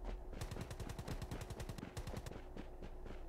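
Rapid automatic gunfire from a shooting video game rattles off in a fast burst of closely spaced shots, loud and continuous for about two seconds, then a few scattered shots follow.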